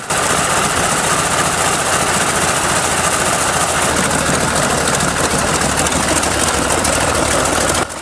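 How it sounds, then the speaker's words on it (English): A 1925 BMW V12 aircraft engine of 46.9 liters, restored after fifty years, runs at a steady, loud, dense roar that holds evenly and close-up throughout. "The engines sound like a smooth and melodious purr, almost like a cat's contented purr."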